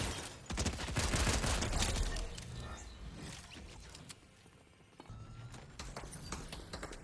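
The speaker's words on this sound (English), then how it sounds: "They're shooting at me?" Gunfire in the Fortnite video game, a dense rattle of rapid shots running through most of the stretch, loud and busy with other game sounds mixed in.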